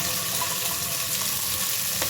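Sprouted grains hitting hot oil in a pan give off a steady, close frying hiss that holds evenly throughout, with no voices.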